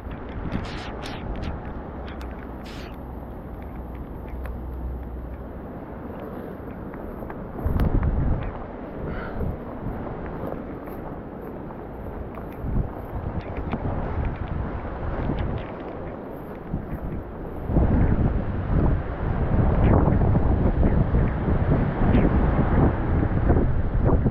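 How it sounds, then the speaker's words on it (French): Cold wind gusting by a trout river, a steady broadband rush that swells louder in the second half, buffeting the microphone up close with no voices. "Le vent ultra froid dans le dos avec mes vêtements qui perdent de tous les côtés."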